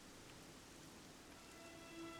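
Rain falls in the Dragon Quest 11 video game as a steady, faint, even hiss with no other sounds on top.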